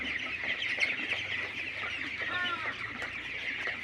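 Crowded chickens on a duck and chicken farm, many birds clucking and chattering together at close range in a dense, continuous chorus.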